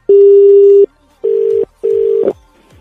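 Loud telephone tone after a call is cut, heard as three beeps in a row, a long one followed by two shorter ones, with a faint click near the end and no voices.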